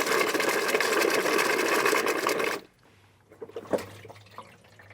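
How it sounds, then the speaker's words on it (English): A Dometic portable camping toilet flushes when its lever is pulled: a loud rushing gush of water for a couple of seconds, then abrupt quiet with a few faint drips and gurgles afterward. "you pull this lever over here to flush it all down."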